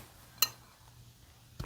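Butter is banged into a mixing bowl for an oat-topped apple crisp, giving two sharp clunks roughly a second apart against a quiet kitchen background.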